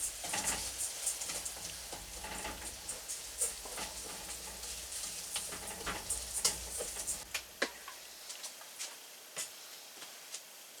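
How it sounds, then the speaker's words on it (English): Rice toasting in a hot pan for a bayou-style catfish dish gives a steady, close crackle with light ticks and scraping stirs, then thins to quieter scattered pops toward the end. "So we're going to add our rice and let them toast a little bit."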